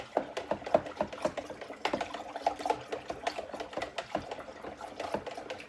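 Maple syrup mead (acerglyn) being stirred vigorously to aerate it, a rapid run of close rhythmic clicks and sloshing taps repeating steadily throughout, fairly quiet with no talking.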